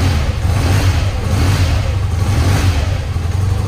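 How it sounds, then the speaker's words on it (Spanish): A motorcycle engine being prepared as a custom base bike runs close and loud, with a deep steady rumble that swells slightly under a couple of gentle throttle blips and no talk. "pegar un par de acelerones suaves."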